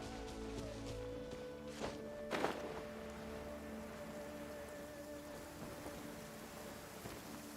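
Steady rain pours down in Genshin Impact, a constant hiss of drops on surfaces lasting throughout, with a couple of soft thuds and a low musical hum beneath.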